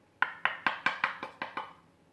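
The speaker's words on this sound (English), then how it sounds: "He heard a knock at the front door." Eight quick, evenly spaced knocks on a front door, crisp and close but fairly quiet, heard alone.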